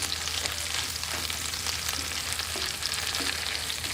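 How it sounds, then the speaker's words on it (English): Chorizo and beans are stirred with onion in a hot pan, giving a loud, continuous, close sizzle with light crackling throughout. "we're just gonna mix it with the onion"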